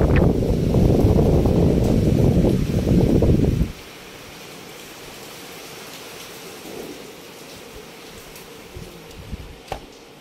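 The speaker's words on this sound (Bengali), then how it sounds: "ঝড় তো আমাদের আজকেই হচ্ছে, মানে বিশাল হাওয়া দিচ্ছে" Strong wind from Cyclone Remal roars in Kolkata as loud, rumbling gusts buffet the microphone for a few seconds. It then drops to a quieter, steady outdoor wash with faint scattered knocks.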